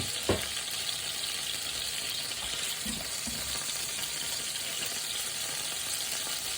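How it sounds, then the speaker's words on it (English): Peppers frying in a pan for a burger, a continuous bright sizzle with a couple of clinks and stirring sounds early on, close and steady. "we're going to get a nice fried pepper."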